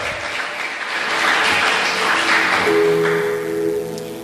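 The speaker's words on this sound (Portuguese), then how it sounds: "Aplaude ao Senhor, querido." A church congregation applauds with sustained, full clapping that swells slightly midway, while soft sustained musical tones enter toward the end.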